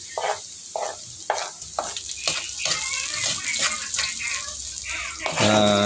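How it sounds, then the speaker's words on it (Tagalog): Chili and garlic sauté in hot oil with a crackling sizzle and rhythmic spatula scrapes at first, then denser frying, and a brief running-water hiss at the end. "nagpainit lang ako ng mantika at nagisa ako ng bawang"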